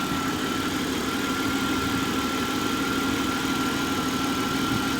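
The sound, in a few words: 1996 Jaguar XJ6 engine idling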